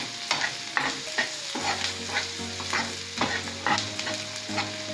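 Onion pieces fry steadily in a pan, a continuous close sizzle broken by repeated scraping stirs of a spatula and a low hum underneath, with no voices.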